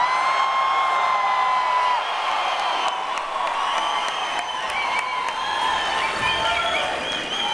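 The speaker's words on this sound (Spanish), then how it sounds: "Esos gritos y aplausos me hacen pensar que sí, en realidad conocen el disco de principio a fin." A concert crowd at a show in Bogotá shouts, whoops and applauds. The dense cheering and clapping sound loud and sustained, with high shouts rising out of the roar.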